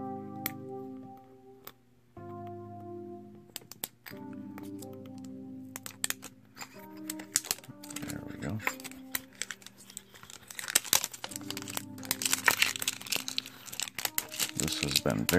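A Pokémon Great Ball collector tin is opened, with crinkling plastic wrap, tearing and small taps close by under a steady musical tone, growing busier toward the end.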